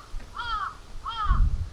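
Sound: crows cawing in a park

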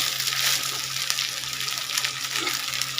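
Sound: vegetables being stirred and fried in a pan

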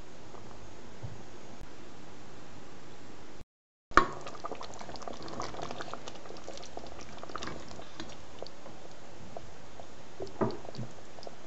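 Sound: Genovese sauce with white wine simmering under lid

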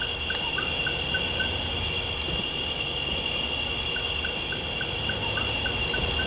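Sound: waterfall in video game SiN

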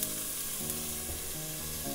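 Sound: onions and garlic sautéing in hot olive oil

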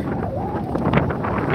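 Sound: wind blowing on a fishing pier

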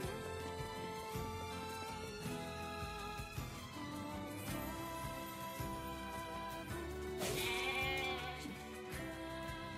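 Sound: goats bleating in NieR: Replicant video game

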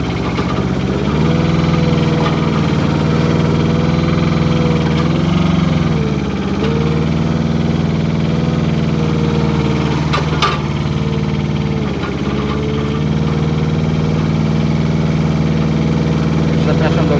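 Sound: Avant mini loader, Kubota diesel engine, turning on the spot

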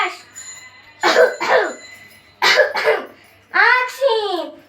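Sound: coughing in a children's action song about cough and cold

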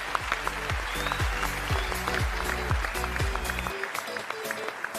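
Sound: applause for singers on stage

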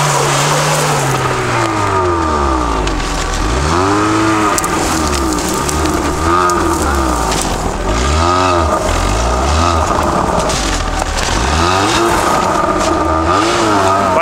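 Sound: off-road vehicle wheel spinning on snow

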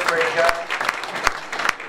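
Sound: wedding guests applauding

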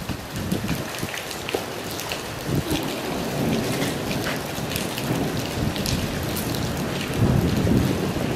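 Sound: thunderstorm with rain and thunder

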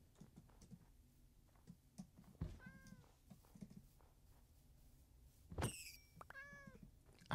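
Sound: cat meowing in Minecraft video game

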